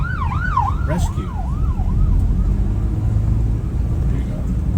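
An ambulance on a road in Coron, Palawan sounds its siren, a loud wavering wail sweeping up and down several times before fading, over heavy steady traffic and engine rumble.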